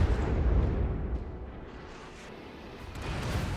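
Incoming shell fire from the cruiser Nürnberg in World of Warships, heard as a continuous heavy rumbling blast that dips briefly and then swells again, with no voices.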